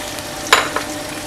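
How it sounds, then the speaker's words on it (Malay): Onion paste for a coconut-milk-free fish curry being sautéed in a pan, with a steady low sizzle and a couple of short stirring scrapes standing out near the middle, close and fairly quiet, with no talking. "Okey, kita tumiskan dia sampailah"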